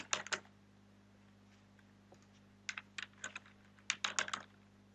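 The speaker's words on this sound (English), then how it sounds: "so I'm gonna type telnet" Keys on a computer keyboard are typed in short quick bursts, a few clustered clicks at a time, close and quiet against a faint steady hum, as a telnet command is entered.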